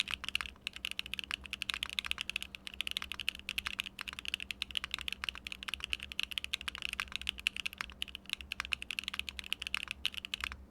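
Fast, steady typing on a mechanical keyboard with Arowana yellow switches and PBT keycaps, with no foam inside, makes dense, crisp clacks that run continuously and sound close and fairly quiet.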